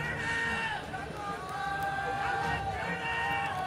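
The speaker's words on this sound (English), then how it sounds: "You can hear the shouts for Kurtis coming from the crowd." A crowd at a boxing bout between Kurtis Allen of the UK and Saensatharn of Thailand shouts and chants for Allen, a steady roar of many voices throughout with a few louder rising cries.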